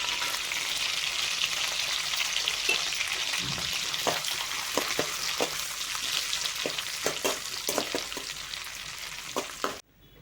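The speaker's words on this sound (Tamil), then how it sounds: "முந்திரி பாதாம் இது ரெண்டையும் போட்டு நம்ம ரோஸ்ட் பண்ணிக்கலாம்" Cashews and almonds roasting in butter for carrot halwa, giving a dense, steady sizzle close by, with soft stirring scrapes dotted through it before the sound abruptly cuts off at the end.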